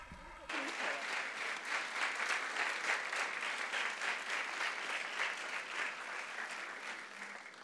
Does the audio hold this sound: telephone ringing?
no